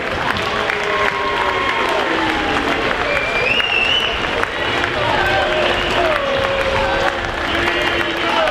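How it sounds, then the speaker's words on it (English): A large crowd at the 2017 NCL Grand Final, an amateur rugby league event, applauds the runners up in a loud, steady wash of clapping and cheering that never lets up, with murmurs and a few whistles mixed in. "Let's give them a big round of applause as they head up to get their mementos."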